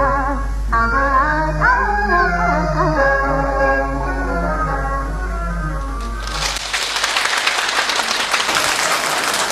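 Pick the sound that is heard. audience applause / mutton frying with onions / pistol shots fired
audience applause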